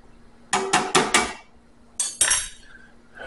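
A utensil clinks and scrapes rapidly against a pan while pepper sauce is stirred, with a quick burst of metallic strikes, a pause, then a second burst and a softer scrape. No one speaks.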